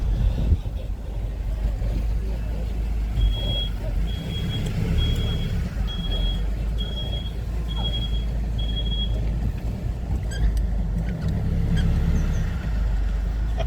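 Vehicles on a mountain road at Paramin edging into a parking spot, a loud engine rumble with a string of regular reversing beeps in the middle, close by and continuous.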